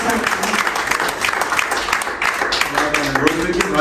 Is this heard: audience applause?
yes